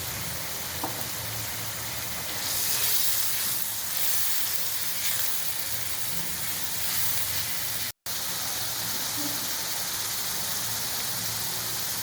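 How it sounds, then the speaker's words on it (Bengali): Ground spices frying in oil in a pan, a steady close hiss and sizzle with a brief dropout near the end. "ভালো করে মশলা কষিয়ে নেব।"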